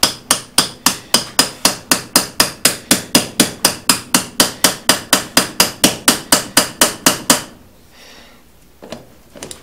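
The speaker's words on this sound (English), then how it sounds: "Try to hammer it in there." Rapid, evenly spaced hammer blows ring out on a part of a Stanadyne Roosamaster DBG diesel injection pump, about thirty sharp metallic strikes close up, then stopping with a few faint clanks.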